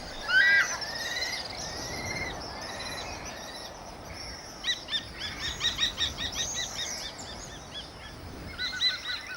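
A kestrel calling from a cliff edge in the Kalahari, with repeated sharp, high chittering notes in quick bursts, moderately close, over a soft insect-like background hiss.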